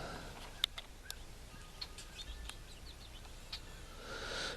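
Goldfinches and house finches at backyard bird feeders give scattered, faint chirps and short tweets against a quiet outdoor background, with no voices.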